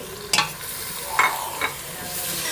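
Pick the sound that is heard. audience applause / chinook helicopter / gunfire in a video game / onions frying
onions frying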